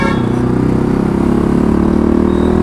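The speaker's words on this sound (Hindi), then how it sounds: "और एग्जॉस्ट के साउंड सुन रहे गाइस" A car's exhaust rumbles deep and loud out in road traffic, a steady low growl that holds throughout the short stretch without any talk over it.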